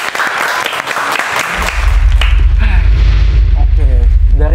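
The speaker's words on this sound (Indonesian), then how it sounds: "Tepuk tangan buat Rasya dan Akila." A studio audience on a talk show applauds two young guests, first a bright spattering of claps, then a loud, low rumbling boom comes in under it, with a voice speaking over the cheering.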